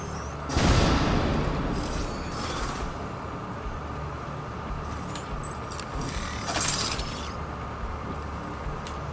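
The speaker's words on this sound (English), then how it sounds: "I can toss a grenade, right?" A thrown grenade detonates in the video game Grand Washington with one dull, heavy blast near the start. Steady game ambience follows, with a fainter burst a few seconds later.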